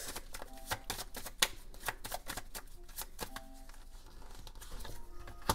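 Oracle cards shuffled by hand, giving a run of quick crisp riffling snaps and papery flutters at close range, irregular in rhythm and fairly loud throughout.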